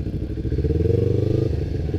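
A Kawasaki Ninja 250 motorcycle, a 250 cc sport bike, drones steadily during a test ride, its engine a loud, close, pulsing hum with a slight rise and fall in pitch and no talking.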